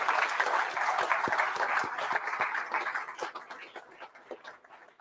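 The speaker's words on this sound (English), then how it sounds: "Give yourself one huge round of applause" Audience applause at a political party launch event in Newcastle, many hands clapping steadily and dense at first, then thinning and fading toward the end.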